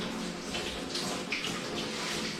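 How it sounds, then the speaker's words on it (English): Tap water runs steadily while hands are rinsed in a kitchen, a soft continuous splashing hiss with slight shifts in the flow, quiet and without talk. "Rinse my hands off real quick."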